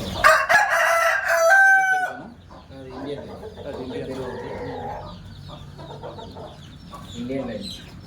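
A rooster of a native Indian breed crows loudly and close by at the start, a long strained call, followed by softer clucking and scattered farmyard noise.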